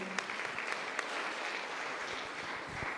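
A church congregation applauds, a dense, even wash of clapping that continues steadily throughout at moderate distance, with no talk over it.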